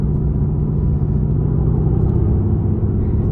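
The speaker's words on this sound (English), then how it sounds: "I have it in race mode just so you can hear just how visceral this thing is." The exhaust of a 577-horsepower 2018 Mercedes-AMG GT R in race mode gives a loud, continuous deep rumble, close and steady throughout, with no voices.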